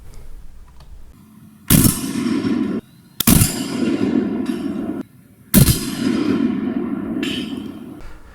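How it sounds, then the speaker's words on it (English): German WWII 7.92x57mm rifle rounds fired at a 3/8-inch AR400 steel plate on an outdoor range: three loud, sharp reports a couple of seconds apart, each followed by a sustained rumbling ring and echo. "we'll look at the range shots just so you can see what it did when I shot it."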